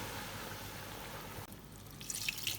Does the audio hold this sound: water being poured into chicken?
yes